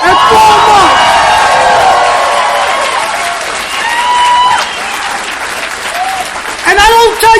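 Loud applause and cheering from a crowd at a recovery meeting, strong at first then thinning, with a voice speaking over it near the end.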